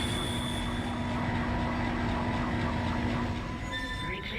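A damaged tram car in Dead Space rumbles steadily along its tracks, a loud continuous roar with high metallic squeals and a droning hum throughout.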